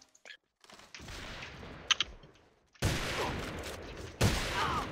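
Bursts of gunfire in the online shooter A.V.A, loud broadband volleys arriving in two heavy stretches after quieter scattered shots, with faint voice chat underneath.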